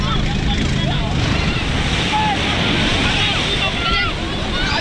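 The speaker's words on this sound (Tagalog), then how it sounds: "Lalaki kasi ng alon" Large ocean waves roll and crash around a small boat at sea, a steady, loud roar of surf and wind that fills the whole stretch, with people's voices shouting over the water.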